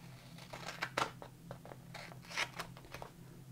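Scissors cut paper scraps for card making at close range, a handful of crisp snips and rustles spaced unevenly over a quiet room hum.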